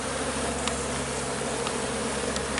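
Honeybees buzz around a hive in a dense, continuous drone heard up close, steady and unbroken, with a few individual bees whining past.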